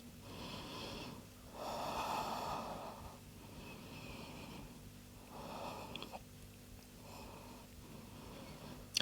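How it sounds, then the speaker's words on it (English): Slow, audible breaths, some with a wheezy or snorting edge, come from a person holding an arm balance during an advanced vinyasa yoga flow. They rise and fall in long cycles, close and fairly quiet, with no talking. "Holding and breathing."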